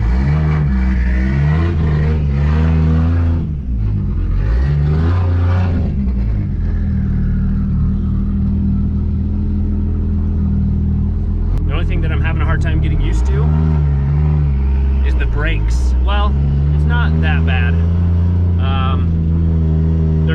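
A Nissan 240SX fitted with a 2JZ engine starts and revs, loud and close, its rumbling idle rising and falling through several throttle blips while people talk over it.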